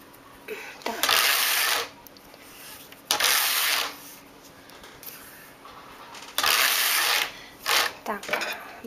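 Knitting machine carriage sliding across the needle bed while knitting rows of a baby bonnet, several loud rasping sweeps in bursts separated by pauses, with faint speech between them.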